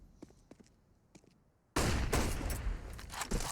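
Dense burst of overlapping gunfire from Counter-Strike: GO on the Dust2 map at a pro esports match, erupting loudly at the midpoint after a quieter stretch of faint game noise and continuing as a sustained fusillade.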